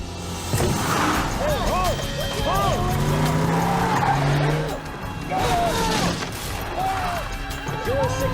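Several vehicles speed through a roadside quarantine barricade with repeated tire squeals and skids, roaring engines and a few impacts, loud and close, with voices mixed in.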